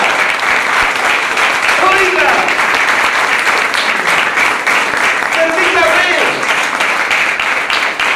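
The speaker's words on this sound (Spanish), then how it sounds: "Un aplauso al que vive" Loud, continuous applause from a church congregation during a Spanish sermon, dense clapping with a few voices calling out over it, steady for the whole stretch.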